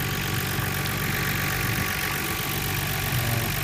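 Nissan R32 GTR engine idling after a vacuum leak repair, a steady, even drone heard up close with no change in revs across the short stretch.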